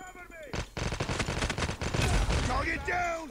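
Rapid bursts of AK117 assault rifle fire in the mobile shooter Call of Duty Mobile, loud and close, rattling almost continuously after a brief opening with game sounds and a voice talking over it.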